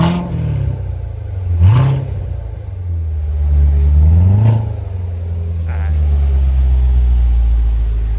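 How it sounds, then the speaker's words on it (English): A Corvette Stingray engine revs hard twice, its pitch climbing and falling with each blip, then settles into a deep, steady idle rumble close by. "Now you're gonna hear that engine."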